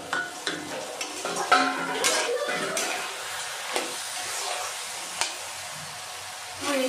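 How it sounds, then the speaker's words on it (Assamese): Watermelon pieces frying in a pan over very low heat, a quiet steady sizzle with a few spatula scrapes and clinks early on, then settling into a low simmering hiss. "এতিয়া মই এখন ঢাকন মাৰি দিম আৰু একেবাৰে কম জুইত মই এখিনি 10 মিনিটমান ভাজিম"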